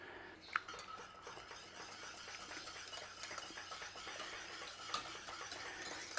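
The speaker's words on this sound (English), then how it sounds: "Nice stir through." A spoon clinks and scrapes around a pan as Colman's mustard and Worcestershire sauce are stirred into a Welsh rarebit cheese sauce, with a couple of sharper metallic taps over a soft, steady kitchen background.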